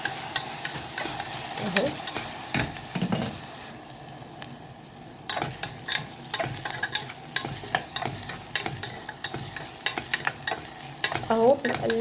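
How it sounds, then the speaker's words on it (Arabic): Shakshuka fries in a pan with egg and tomato while a spoon stirs it, giving a steady sizzle broken by repeated scraping and clinking strokes. A short spoken word is heard. "اهو بنقلب كده"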